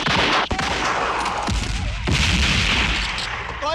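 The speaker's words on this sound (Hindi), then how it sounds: "I need covering fire Gurnam, मुझे कवर फायर चाहिए" Covering gunfire in the Indian war film Border: dense, loud bursts of rifle and machine-gun fire with heavy booming blasts, continuous over the whole stretch.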